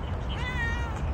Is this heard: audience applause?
no